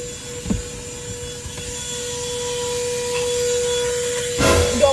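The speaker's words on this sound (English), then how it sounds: "You're vacuuming me." A vacuum cleaner runs steadily indoors, a continuous whining drone with a fixed tone and a couple of brief knocks, rising into a louder rush at the end.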